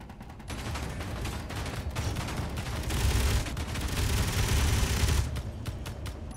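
Sustained turret gunfire in Space Engineers, a dense, continuous rattle of rapid shots over a low rumble, steady and fairly loud throughout, with no talk.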